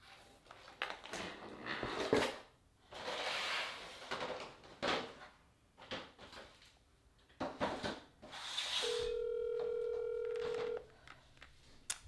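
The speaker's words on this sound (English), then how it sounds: "I'm going to call him on the phone because he didn't respond." A telephone call being dialed, with button-press tones and handling clicks followed by a sustained steady tone for about two seconds, fairly close and clear with no talk over it.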